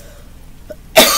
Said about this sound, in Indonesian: Mohon maaf, saya sedang batuk.